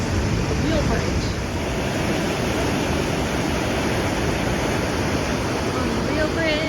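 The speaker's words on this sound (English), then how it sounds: "Horse River is really kicking it up." Horse River rushes along a Great Divide Trail crossing, making a loud, continuous broadband roar of churning water that stays close and unbroken throughout.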